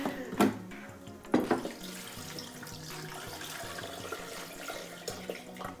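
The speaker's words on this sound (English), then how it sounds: "we are going to pour in 2 cups of filtered water" Filtered water pours into a pot while sorbet is being made, a soft continuous trickle and splash at close range with a couple of sharper clunks near the start.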